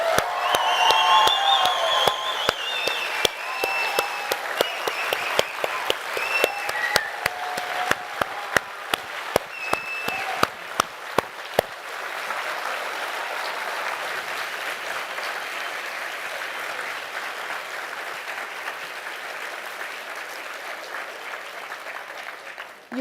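An audience at a closing plenary lecture bursts into loud clapping and cheering. Sharp individual claps ring out over the first half, then the sound settles into a softer, steady wash of applause.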